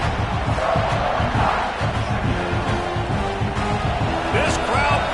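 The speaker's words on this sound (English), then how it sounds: "This crowd bringing the energy and noise early." Steady roar of a large stadium crowd in the video game College Football 26, loud and continuous, with a game commentator's voice talking over it.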